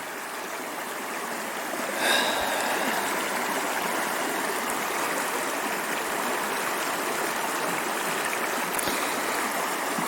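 River in Denali Park in late July flowing steadily nearby, a constant rushing wash of water with a couple of faint brief splashes, no talking.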